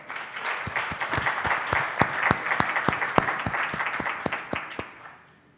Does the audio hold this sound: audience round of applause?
yes